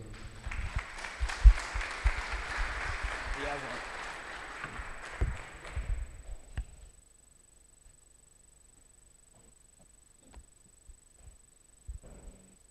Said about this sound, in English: Guys, please give a round of applause for John Eves